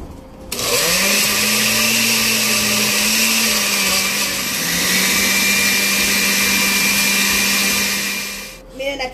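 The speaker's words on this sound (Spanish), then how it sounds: "Y un chorrito de agua nada más para ayudarle a la licuadora." Kitchen blender whirring steadily as it purees salsa with garlic and a splash of water, a loud close motor drone starting abruptly, dipping slightly in pitch midway and cutting off near the end.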